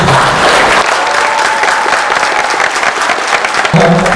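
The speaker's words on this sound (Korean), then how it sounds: "더큰 박수, 응원의 박수를 보내주니다" A hotel ballroom crowd at the 2024 Andong city development strategy briefing claps loudly and continuously, a dense, even roar of hands that barely dips, with a brief voice near the end.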